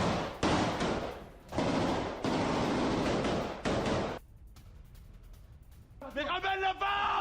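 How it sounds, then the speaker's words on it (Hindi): Israeli soldiers on a West Bank search operation fire weapons in loud, dense bursts of rapid gunfire broken by short gaps, then a quieter stretch before shouted voices break in. "आईडीएफ के जवान सर्च ऑपरेशन करते हुए गोलियां बरसाते नजर आ रहे हैं"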